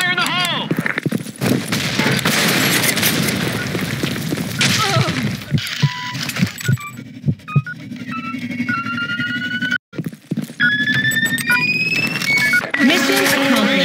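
Video game combat with a grenade blast and gunfire: dense bursts of shots and crashes, a sharp explosive hit near the middle, and short voice callouts in between.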